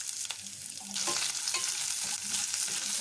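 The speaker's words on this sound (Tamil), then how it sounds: "வெங்காயம் நல்லா வதங்கட்டும்." Chopped small onions sizzle and crackle in hot oil in a pan, a steady frying hiss with occasional stirring scrapes, close by and without talk.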